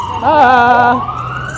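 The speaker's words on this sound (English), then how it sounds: "it's like sirens here every freaking 5 minutes" An emergency vehicle siren in a city street, a loud close wailing tone that rises and sweeps for about a second before sliding off.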